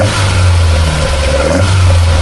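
Up close, the 12:1 compression Toyota 3TC wagon engine is briefly revved, and its loud, raspy drone swells and falls over a couple of seconds with no voices.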